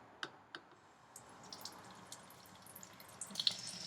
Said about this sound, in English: you're going to want to turn the water on just so that it's dripping